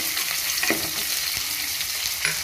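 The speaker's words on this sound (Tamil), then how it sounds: "2 வெங்காயம், வெங்காயம் நல்லா வதக்கணும்" Onions sauté in a pan for a fish curry, giving a constant close sizzle with a few clattering stirs of a utensil against the pan and no talking.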